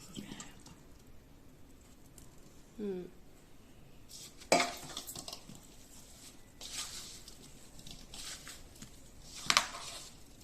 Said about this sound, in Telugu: ఇలా కారం అన్ని కాయలకి ఈక్వల్గా పట్టేలాగా మంచిగా కలుపుకోవాలి.